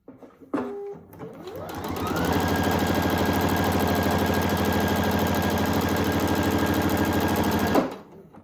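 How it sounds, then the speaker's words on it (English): Domestic sewing machine stitching pieced quilt border block fabric, starting with a short whir then running in a steady, loud, continuous buzzing hum for several seconds before stopping abruptly; no talking. "I'm just going to sew right on that line."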